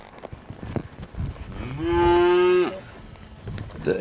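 A cow moos once, a loud drawn-out bellow near the middle, over faint ranch background noise at a cutting-horse training session.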